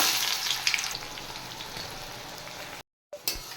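Chopped onions fry in hot oil with whole spices, dried red chillies, bay leaf and cumin, a close, steady crackling sizzle that cuts out briefly near the end before resuming.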